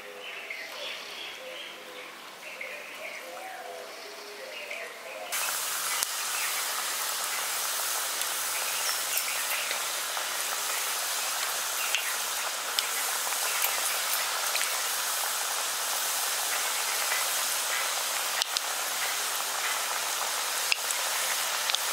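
Biscuits frying slowly in hot oil over a low gas flame. After a few seconds of quieter background, a steady, dense, close sizzling hiss takes over and carries on to the end.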